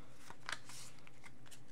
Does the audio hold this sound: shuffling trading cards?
yes